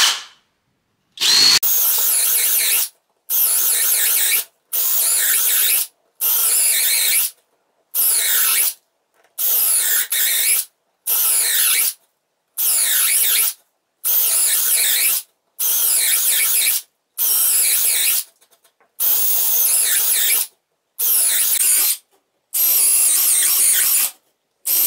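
A Parkside Performance 12V cordless drill driver whirs in repeated bursts of a second or so, separated by short pauses, loud and close with no talking.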